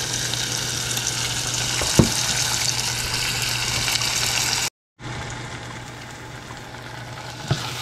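Ground onion masala sizzles steadily in a pan as it sautés for a salmon fish curry, a close, continuous frying hiss with one brief break and a few small stirring knocks.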